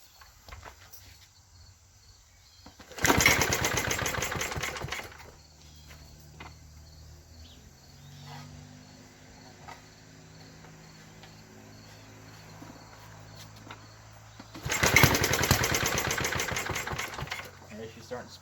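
A 1952 Clinton VS-700 small engine sputtering to life in two loud rough bursts of firing, each a few seconds long, separated by a quieter stretch of low idle-like rumble and background noise.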